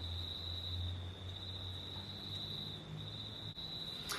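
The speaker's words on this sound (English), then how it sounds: "crickets, right?" Crickets chirp in a steady, continuous high trill over a faint low hum, soft and unbroken for the whole stretch.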